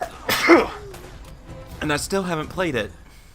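A single sharp sneeze bursts out near the start, loud and close, followed by people talking casually over a quiet background.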